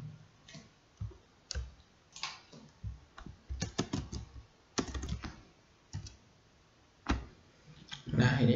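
Computer keyboard keys click in scattered short bursts, including a few louder single presses like the Enter key, with pauses between the typing runs and a rustling thump at the end.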